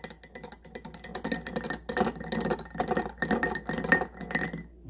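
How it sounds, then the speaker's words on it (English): Metal bar spoon stirring a grapefruit juice cocktail in a glass, a continuous run of quick bright clinks and rattling against the glass, close and clear with no talking. "bar spoon, we're going to stir that up"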